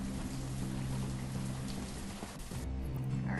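Steady rain hisses across a settlement in the city-building game Banished, blended with a soft sustained music bed; the downpour thins and quiets after a few seconds.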